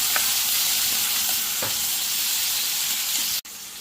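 Halved mushrooms frying in a pan for chilli mushrooms, giving a constant close hiss of sizzling oil with a few faint stirring scrapes and a brief drop near the end.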